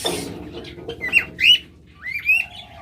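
Caged lovebirds, a violet-mask and blue-mask pair, giving a few short, sharp chirps and squeaky calls in quick succession, fairly close and clear over a quiet background.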